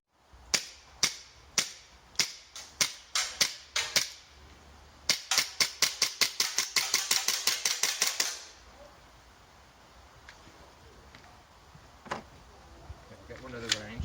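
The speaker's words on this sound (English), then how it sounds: "This is going to be the range shooting of the video" A CZ 75 Shadow 2 pistol fires at a shooting range, first as a string of spaced sharp shots and then as a fast run of about twenty, followed by a quieter stretch with one more distant crack.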